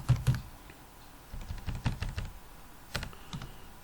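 Typing on a computer keyboard while writing an administrative letter, with scattered close key clicks in short bursts and pauses and no talking.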